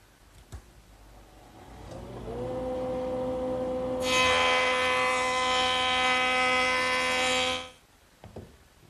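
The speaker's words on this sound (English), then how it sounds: "Now I'm just going to plane the edge that I just scraped." A hand plane works the edge of a curved wooden rail in one long, steady, loud pass with a ringing, tonal quality, ending abruptly.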